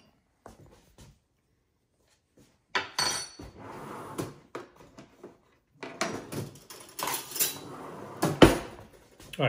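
White bean and kale pistachio pesto crostini being plated, with sparse then busier clinks and clatters of dishes and cutlery against plates, close by and irregular, with no talking.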